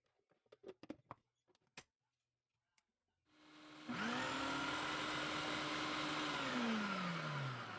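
Avocado being blended in a food processor or blender for brownie batter: a few soft clicks and taps, then the motor starts and runs with a loud steady whir whose pitch slowly drops, no talking.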